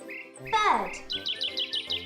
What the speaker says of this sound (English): I absolutely love listening to birdsong.